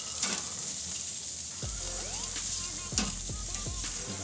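Chilli, lime and ginger chicken wings on a Kamado Joe grill, a loud continuous sizzle and crackle with a few scraping thuds as they are turned, no talk.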